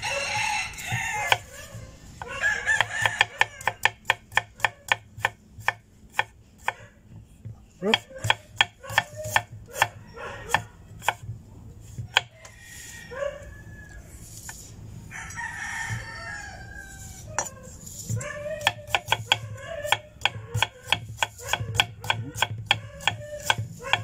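A Famco 8-inch German stainless steel chef knife chops through taro on a board in sharp, rapid clacks in quick bursts, while a rooster crows and chickens cluck loudly nearby.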